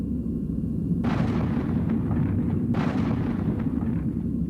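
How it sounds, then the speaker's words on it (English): A 105mm howitzer fires from an American gunship during the Vietnam War, two heavy booms about two seconds apart over a constant engine drone. "A heavy caliber gun that had been in use by American forces since the Second World War, the 105mm howitzer."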